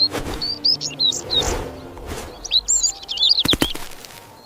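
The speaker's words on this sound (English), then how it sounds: "Starly, a tiny bird with a big voice." A small bird chirps and tweets in quick high bursts, with several clear calls early and a denser flurry later, along with a few sharp clicks and some flapping, set against light background noise.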